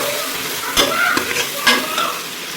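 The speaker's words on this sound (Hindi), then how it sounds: "1 मिनट के लिए इसको भून लेंगे अच्छे से" Turmeric, coriander, garam masala and red chili powder stir-fry in a pan for mutton aloo. A steady sizzle carries two sharp scrapes of a spoon against the pan, close and loud with no voices.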